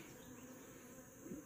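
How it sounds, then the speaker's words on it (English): Honey bees buzz softly and steadily in an opened hive of a weak colony, a faint continuous drone with a brief louder buzz near the end. "They're just a handful of nurse bees in there"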